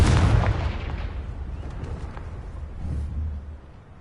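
The Confringo spell in Hogwarts Legacy sets off a loud, deep explosion with a heavy boom right at the start, then a long rumbling decay and a smaller second burst before it fades.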